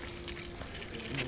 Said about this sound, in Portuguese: Jorra por todo lado aqui a água.